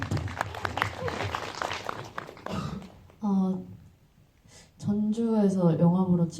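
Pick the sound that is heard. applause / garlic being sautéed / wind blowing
applause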